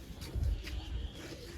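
Racing pigeons give a brief, faint low coo, a soft rounded call near the start set against quiet background hiss.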